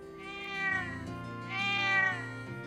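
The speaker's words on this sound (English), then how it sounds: "Should we ask the cat?" A cat in The Legend of Heroes: Trails of Cold Steel II gives two drawn-out meows, clear and close, over soft background game music.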